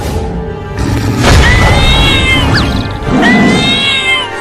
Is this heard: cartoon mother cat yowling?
yes